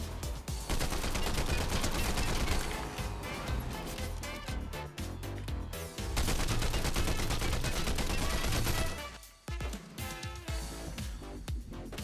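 Rapid gunfire from the Fortnite video game, bursts of shots crackling continuously over a dense, loud mix of game effects, with a brief lull near the end before firing resumes.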